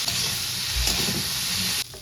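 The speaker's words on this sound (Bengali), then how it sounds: "এবার ভালো করে একটু ভেজে নেব।" Vegetables seasoned with salt and turmeric sizzle and fry steadily in a hot pan, with a brief stirring scrape partway through before the sizzle cuts off near the end.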